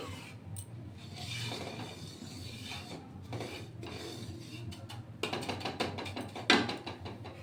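Semolina is stirred in a pan with soft rasping scrapes and rubbing strokes that come and go at low volume, growing busier and more clattery toward the end.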